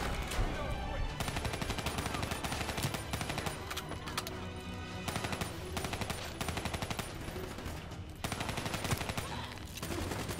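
Video game gunfire rattles in rapid, continuous machine-gun bursts, loud and dense, with brief breaks between volleys and a voice speaking under the shooting.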